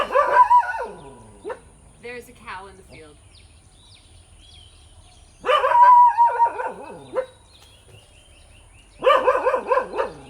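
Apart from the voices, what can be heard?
dog growling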